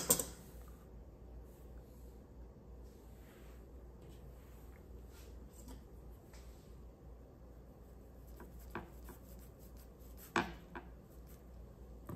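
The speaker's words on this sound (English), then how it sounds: "Now I'm gonna trim off the ends to make it more even. I'm using a serrated knife." A serrated knife trims the ends off a matcha Swiss roll in soft, quiet sawing strokes, with a few sharper taps against the board.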